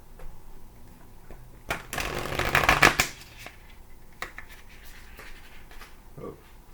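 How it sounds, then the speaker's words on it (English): Tarot cards are shuffled nearby in a riffling burst lasting about a second, followed by a few softer taps and card handling in a quiet room. "give me a good shuffle"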